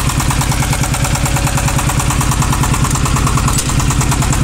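A 600 kg capacity mini front loader's engine runs at a steady idle, with a loud, even, rapid chugging pulse that continues without a break throughout.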